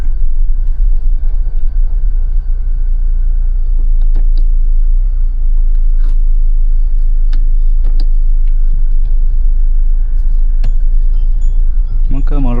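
A Mahindra Thar Roxx drives over potholes on a test drive: a loud, steady low road rumble fills the cabin throughout, with scattered knocks and rattles from bumps and occasional voices over it.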